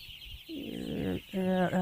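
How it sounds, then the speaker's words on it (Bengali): Young broiler chicks on a poultry farm, a few short, close peeping and cheeping calls rising out of a quiet background. "এখন আপনার এখানে যে মুরগিগুলো আছে এটা তো ব্রয়লারের"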